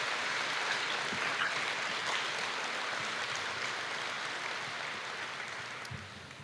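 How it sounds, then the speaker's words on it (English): Applause for family members at a military change of command ceremony, a steady wash of clapping from a large seated crowd that slowly fades over several seconds. "So how about another round of applause for the family members?"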